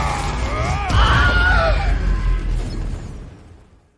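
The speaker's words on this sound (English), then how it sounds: "Just stick a Wilhelm scream right over top of it" A Wilhelm scream sound effect, a loud, sharp, wavering shriek over a heavy impact-like rumble that fades away toward the end.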